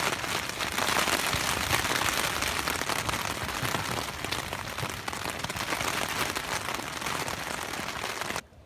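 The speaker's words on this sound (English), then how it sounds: "And then heavy hailstones and rain." Heavy hailstones and rain pound down on a fishing camp on a flood plain, a dense, loud, continuous roar of impacts that cuts off abruptly at the end.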